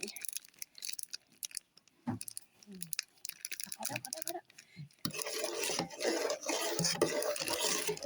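A utensil scrapes and clinks around a pot of coconut milk and egg mixture in irregular strokes, then a denser, steadier stirring sound takes over, close and moderately loud.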